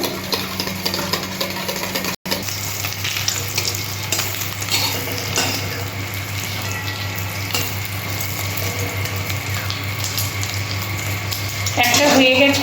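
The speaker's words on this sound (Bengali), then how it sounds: "আমি সব ডিমগুলো এইভাবে অমলেট করে নেবো" Eggs frying into omelettes in a pan for a Bengali potato and egg fritter curry, a steady close sizzle with faint scraping and stirring, tap-like running water noise throughout and a brief dropout near the start.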